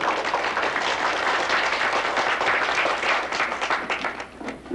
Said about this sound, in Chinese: 我想请大家现在鼓掌表示欢迎他们两个